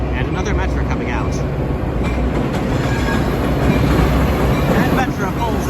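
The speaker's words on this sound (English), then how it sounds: "And another Metro coming out." A Metra commuter train rumbles past at Roosevelt Road with steady rail noise and faint wheel clatter, while a person talks over it.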